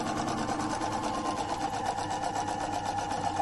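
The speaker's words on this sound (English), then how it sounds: "You're just sewing 4 little pieces on each snowflake." Sewing machine running steadily as small pieces are stitched onto a quilted snowflake panel, a continuous close mechanical whir with a fast, even needle rhythm and no talking.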